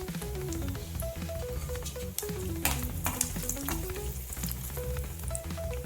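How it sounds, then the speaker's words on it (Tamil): Long coconut strips frying in ghee for an Udupi-style prasadam, a steady close sizzle and bubbling with stirring clinks and scrapes running throughout. "அதே எண்ணெயில் தேங்காய் இந்த மாதிரி நீளமாக கட் பண்ணி வச்சுருக்கேன். அதையும் வறுத்துக்குவோம்."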